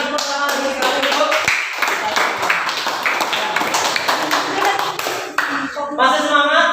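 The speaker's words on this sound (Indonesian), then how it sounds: "Berikan tepuk tangan dulu sekali dulu." A classroom of students claps hands together in a lively, rhythmic burst, close and fairly loud, with voices mixed in.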